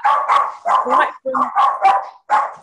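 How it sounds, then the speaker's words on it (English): A small dog yaps in short repeated bursts of barking, close and loud, mixed with a person talking. "My little barky dog."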